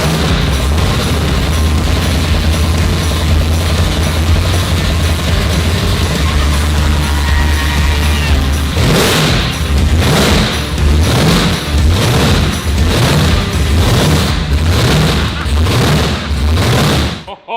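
A 1968 Dodge Charger fitted with a 1500 HP engine runs loud and rough, first a steady droning idle, then a long series of sharp, punchy revs and pops that pulse again and again until it cuts off at the end.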